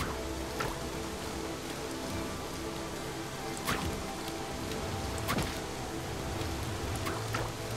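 Waterfall in a video game where a slime climbs through a zombie-filled world, a steady broadband rushing wash of falling water with a few brief louder splashes, constant and even throughout.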